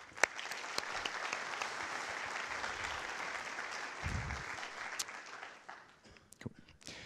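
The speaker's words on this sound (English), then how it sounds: "they deserve a massive round of applause" Audience at a JavaScript conference talk applauds, a sustained round of clapping from many hands that holds steady for several seconds, then thins out and fades.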